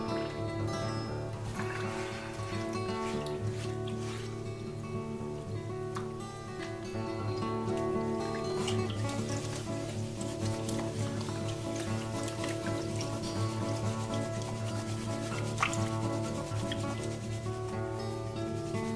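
Gold paydirt holding black sand is wetted and swirled in a pan of water, a continuous soft rubbing, sloshing and dripping that runs steadily under background music.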